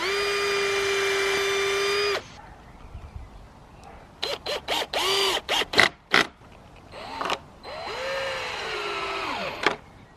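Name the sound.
drill boring a pilot hole in wood for raised bed border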